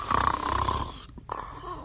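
A man snores heavily in bed, one long rasping inhaled snore that breaks off abruptly, then a short softer breath, close and alone.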